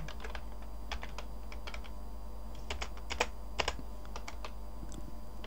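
Irregular bursts of keystrokes on a computer keyboard, with quick clusters of clicks and short pauses, close and fairly quiet over a low steady hum.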